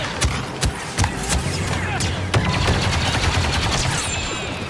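Rapid bursts of video-game gunfire from a Star Wars Battlefront 2 battle, with dense overlapping shots, sharp cracks and sustained volleys filling the mix at close range, no talking.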